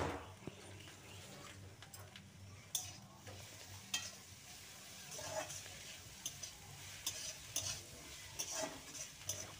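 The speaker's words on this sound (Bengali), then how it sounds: "শুটকি মাছগুলোও কিন্তু খুব ভালো করে সবজির সাথে নাড়িয়ে চাড়িয়ে নেবে।" Dried fish being stirred through vegetables in a pan, a steady low sizzle under repeated scraping and clinking strokes of a spatula spaced through the whole stretch, close and moderately quiet.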